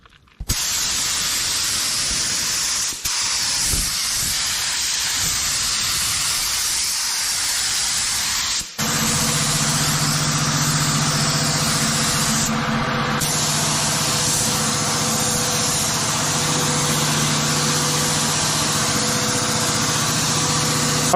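Spray gun applying two-part automotive paint mixed 2:1 with hardener to a car, a steady loud hiss of spray running continuously with brief pauses, then a compressor-like drone under it.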